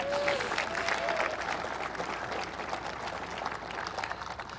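Steady applause from a crowd at a speech by President Joe Biden in Arizona, fairly distant and sustained across the whole stretch with no break.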